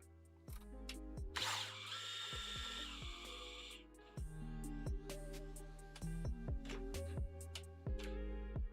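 A cordless drill with its clutch set to the lowest setting drives a screw during assembly of a CNC machine kit, with repeated short motor whirs and ratcheting clutch clicks that stop and restart, nearby and with no speech.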